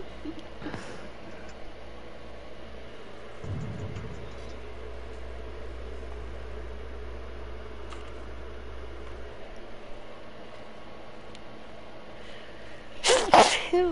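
A single sharp, close sneeze bursts out near the end after a long stretch of quiet room hum.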